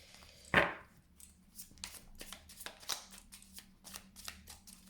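A Béline oracle card deck is shuffled by hand in quick, crisp riffles and soft slaps, one sharp snap near the start followed by a steady rhythmic patter close by.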